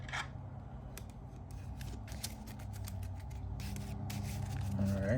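Cards from a Marvel Champions game are shuffled back into a deck, giving a close, continuous riffling and rubbing texture with crisp papery snaps throughout that grow slightly louder toward the end.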